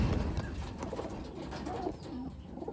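Taiwan pigeon hens of medium to big size coo softly and repeatedly at close range, with low murmuring calls over a rustling background.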